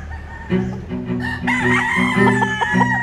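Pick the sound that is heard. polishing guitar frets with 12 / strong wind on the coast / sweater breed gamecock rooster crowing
sweater breed gamecock rooster crowing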